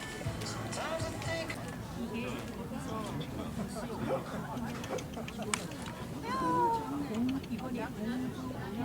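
A cat meows several times indoors, with short tonal calls surfacing intermittently over a steady background of movement and room noise.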